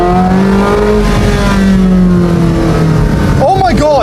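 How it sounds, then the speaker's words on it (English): A Porsche 918 Spyder driven with the roof down pulls hard, its engine droning loud and close as the pitch climbs steadily, with a voice breaking in near the end. "I was so ready to be underwhelmed by the sound of this car"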